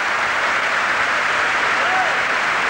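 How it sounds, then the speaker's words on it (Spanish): Crowd applause fills the arena at a 1986 World Championship basketball game between the USSR and Cuba, a steady, dense wash of clapping and cheering that continues without a break. "Y estos aplausos que llegan es prueba evidente de que la gente"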